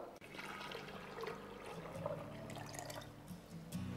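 Dechlorinated water poured into a container for pumpkin vinegar, a continuous close splashing and trickling stream throughout.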